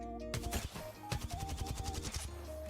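Volt SMG firing in Apex Legends, a fast steady automatic burst of evenly spaced shots lasting about two seconds, close and crisp with a short tail.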